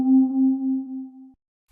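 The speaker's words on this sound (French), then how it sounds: "c'est un son qui est assez conventionnel, tu vois, c'est un son de Juno." Roland Juno synthesizer playing a single steady, pure note that holds for just over a second and then cuts off cleanly, alone and moderately loud.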